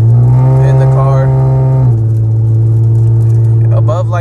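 A Lexus IS350 fitted with PPE headers and a custom exhaust holds a loud, steady low drone at around 2 to 3K rpm, heard from inside the car. The pitch drops slightly partway through and the engine sound continues unbroken.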